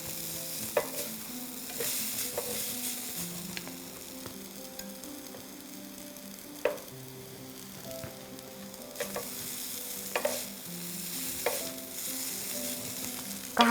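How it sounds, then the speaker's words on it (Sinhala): A spoon stirs a red-coloured noodle mixture in a bowl, giving repeated wet scraping and clicking strokes with sharp knocks against the bowl, close up and without talk. "රතු පාට වෙනම කලවම් කරනවා."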